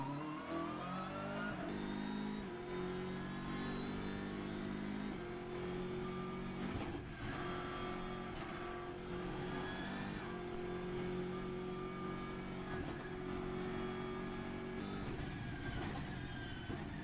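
A GT3 race car engine revs hard and continuously at the Nordschleife during a VLN Championship race, its pitch climbing and dropping through gear changes, steady and fairly close without any talking.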